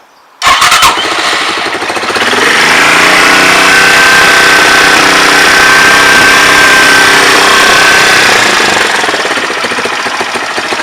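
A Lexmoto ZXS 125 motorcycle with electrical problems starts with a sharp burst and then runs steadily at a low, rough idle, loud and close for several seconds.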